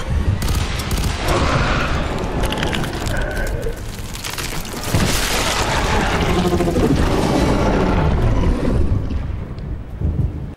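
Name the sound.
gunfire shooting at an enemy in the video game F.E.A.R. 3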